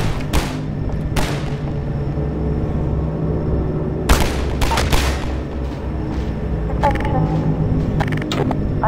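Gunfire and explosions in the video game Half-Life 2, with sharp broadband blasts at irregular intervals and a loud booming burst near the middle, over a constant low rumble of game ambience.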